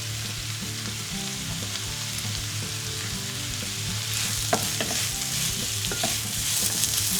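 Grated ginger and spring onion fry in a hot wok, a steady loud sizzle with scraping stir strokes growing busier toward the end, no talking.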